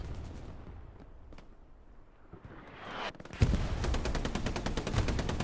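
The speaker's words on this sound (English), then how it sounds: "artillery has decided to join in here right now" Artillery in Hell Let Loose, with distant booms early on, then a sudden heavy barrage of rapid explosions and gunfire that stays loud and dense through the end.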